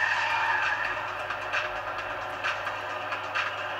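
Steady engine roar of racing cars in a video game, including a gray Firebird, with a droning whine and brief bursts of skidding, no voices.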